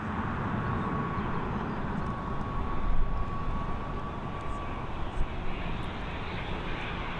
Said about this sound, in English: We've got this ATR 72-600 series aircraft being buffeted about on its final descent